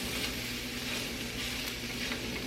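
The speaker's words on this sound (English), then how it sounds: "And I'm just going to stir this around." Potatoes fry in oil in a pan with a continuous dense sizzle and crackle, close and steady, with faint stirring movement underneath and a low background hum.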